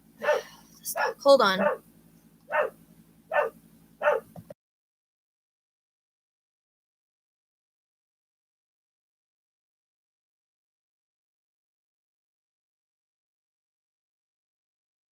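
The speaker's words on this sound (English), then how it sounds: "My dog is driving me nuts right now." A dog barks indoors in a string of sharp, separate barks, about five or six over a few seconds, close and loud, with a person speaking briefly at the start before the sound cuts to silence.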